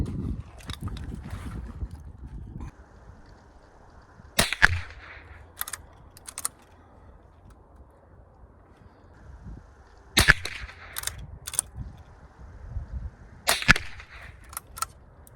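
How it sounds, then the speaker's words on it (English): A Winchester 9422 XTR .22 lever-action rifle fires sharp, isolated cracks outdoors, three prominent shots spaced several seconds apart with a few quieter reports between them over a low background. "So we'll take a few shots with this and go see how it looks."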